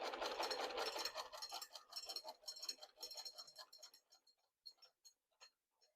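A vintage sewing machine stitches quilt blocks in an off-grid setting, a dense rapid mechanical whir that slows into separate ticking clicks and fades to faint, spaced taps.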